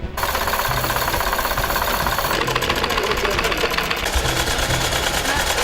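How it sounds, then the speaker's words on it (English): Several donated sewing machines run together in a workshop, a loud continuous mechanical rattle and whir with rapid rhythmic needle strokes that shift in pitch partway through. "These are various sewing machines which have been given by donations from people back in London"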